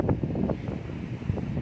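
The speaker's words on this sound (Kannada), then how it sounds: "ಗಾಳಿನೂ ಬೀಸ್ತೈತೆ, ಕೇಳಿಸ್ತಿರ್ಬೋದು ನಿಮಗೆ ಗಾಳಿದು." Wind blows outdoors in a steady, broadband rush with gusty swells, rumbling against the microphone and continuing without a break.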